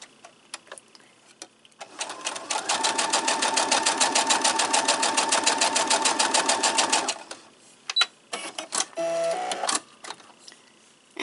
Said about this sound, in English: Drop my needle and just kind of stitch away.